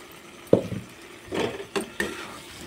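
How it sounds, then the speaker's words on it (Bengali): Fried potatoes tipped into a wok with coriander and cumin powder, a sharp clatter as they land, then a few short scrapes and stirring knocks against the pan. "এখন আমি কড়ার মধ্যে ঢেলে দেব ভেজে রাখা আলুগুলো"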